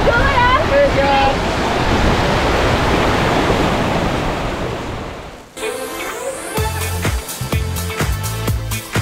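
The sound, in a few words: waterfall roaring, 60 metres high, Giri Tirta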